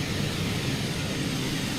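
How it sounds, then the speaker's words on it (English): Engine of the SimWorks PC-12 single-turboprop aircraft in Microsoft Flight Simulator 2020, a steady broadband roar and hum that holds constant at moderate loudness without pause. "the sounds on this airplane are absolutely fire"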